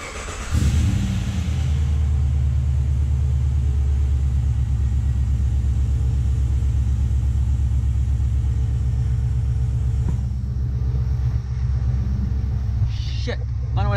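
A Chevrolet L98 6-litre V8 fitted in a Nissan Patrol starts and runs at a steady, loud idle with a deep, throbbing rumble, briefly settling partway through, while a voice speaks over it near the end.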